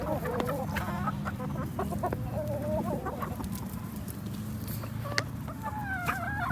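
Chickens cluck and call steadily in a farmyard, with short bright squawks and a rooster-like cry rising over a constant low rumble of background noise; several birds sound at once, close by, and no one speaks.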